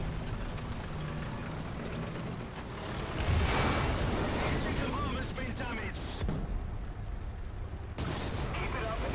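Booming cannon blasts and a heavy impact from a Panzer IV Ausf H shooting through an IS-1 tank in the War Thunder ground-forces game, loud bursts over rumbling battle noise.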